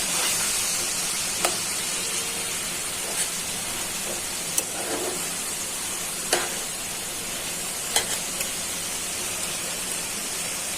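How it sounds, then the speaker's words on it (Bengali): Bitter gourd fries in a pan with prawn legs and ginger, giving a steady hissing sizzle with occasional sharp pops and clinks, close and continuous. "করলাটা তো মাছ দিয়ে ভাজি করতেছি, তার জন্য আদাটা দিচ্ছি"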